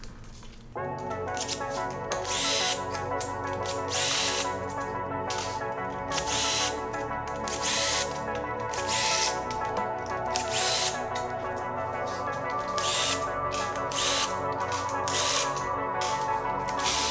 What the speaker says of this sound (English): Those are some beautiful bolt busting noises.